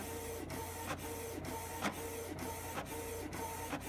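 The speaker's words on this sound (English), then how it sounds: "now the printer will print forever" A Canon inkjet printer prints steadily, its print head sweeping back and forth in an even rhythm of about two passes per second. Each sweep ends in a brief mechanical click, and the machine runs alone, fairly near, with no talking.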